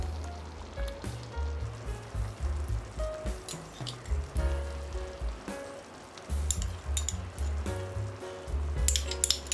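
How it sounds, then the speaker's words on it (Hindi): Fresh cream spoons into simmering restaurant-style dal makhani, with soft liquid bubbling and gentle sizzling close by, in uneven pulses. "तो 4 चम्मच क्रीम हम दाल में डाल लेते हैं"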